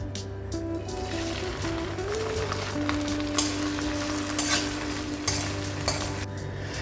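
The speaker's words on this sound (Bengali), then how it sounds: "এরপরে ভিন্ডি ভাজবো, তারপরে বেগুনটা ভাজবো" Vegetables fry in hot oil in a home kitchen during festival cooking, a steady soft sizzle with occasional stirring clicks and scrapes, fairly quiet and unbroken, with no voices.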